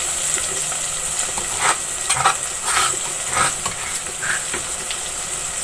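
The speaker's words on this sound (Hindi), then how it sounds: "अब मैंने टमाटरों को भून लिया" Tomatoes sauté in a pot for degi aloo, giving a steady close sizzle with scattered stirring scrapes and clinks of a spoon against the pot.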